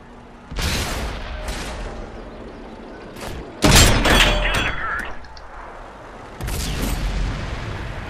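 Heavy booming cannon blasts from a tank battle video game, a few loud shots and explosions spread across the stretch, each followed by a rumbling decay over a low, steady background.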